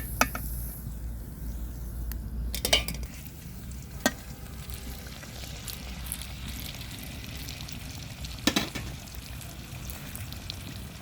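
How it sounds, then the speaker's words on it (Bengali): Oil pitha cakes made with date palm jaggery frying in hot oil, a soft continuous sizzle with occasional sharp clinks and stirring knocks, fairly faint and close. "আমাদের পিঠা সবগুলো ভাজা হয়ে গেছে"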